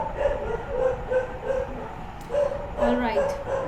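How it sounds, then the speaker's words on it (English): Dogs bark repeatedly in a rhythmic series of yips and woofs, fairly close, with a person talking over them throughout. "the dogs are barking"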